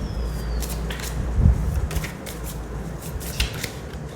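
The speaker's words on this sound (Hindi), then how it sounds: "सो अब मैं कुछ कार्ड्स निकालूंगी कि क्या हो सकता है आपकी लव लाइफ में" Tarot cards shuffled and drawn by hand: close papery riffles and soft slaps over a steady background hum, with a brief thump in the middle.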